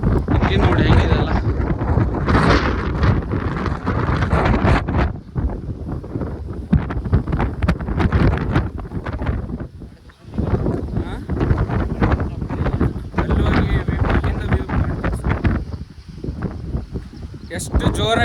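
Strong wind buffets the microphone at a scenic viewpoint, a loud, continuous roar with gusts that nearly drowns out a person talking throughout.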